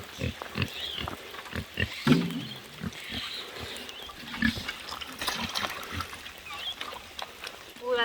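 Pigs fed from an old bucket, with grunting and snuffling close by, splashes and sloshing of liquid feed, and a person talking intermittently over the animals.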